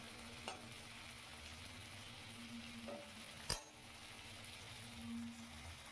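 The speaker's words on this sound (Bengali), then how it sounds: "টমেটোটা নরম হওয়া পর্যন্ত এটাকে আমি নাড়িয়ে চাড়িয়ে সুন্দর করে কষিয়ে নিচ্ছি" Tomatoes sautéing in a pan give a faint, low sizzle, with a couple of soft clinks and one sharp utensil knock against the pan midway.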